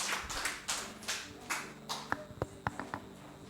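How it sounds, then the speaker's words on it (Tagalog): A small church congregation gives brief, scattered applause, a few faint claps and taps rather than a full ovation, with no talking over them. "Palakpak po sa Panginoon."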